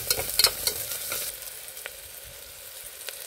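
Onions, green chillies and curry leaves hit hot oil in a pan, crackling loudly with bright pops at first, then settling into a softer steady sizzle with occasional stirring clicks and no speech.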